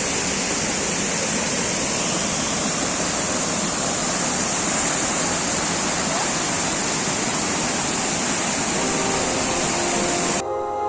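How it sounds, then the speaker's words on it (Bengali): Hillside waterfall in the rainy season near Tanguar Haor, Sunamganj, pouring with a loud, continuous broadband rush of water that stays constant throughout. "বর্ষাকাল এলেই এই ঝর্ণায় প্রাণ ফিরে আসে।"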